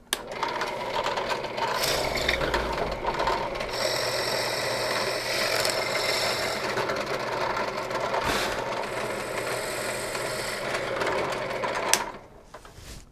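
Drill boring tuner holes through an ebony guitar headstock, a steady loud whirring motor drone with gritty cutting noise for about twelve seconds, briefly dipping midway, then cutting off abruptly.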